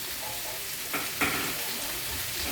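Meat fries in a pan with a steady, close sizzle, broken by two short, louder crackling bursts partway through.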